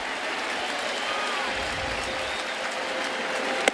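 Crowd at a Saturday afternoon Blue Jays vs Yankees baseball game cheering and applauding steadily, a dense roar of many voices and claps filling the stadium, with one sharp louder pop near the end.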